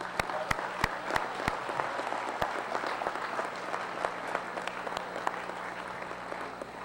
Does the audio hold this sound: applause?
yes